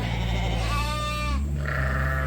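Sheep on a farm where lambs and rams are raised give a drawn-out, wavering bleat up close, with a second shorter bleat following over steady low background rumble.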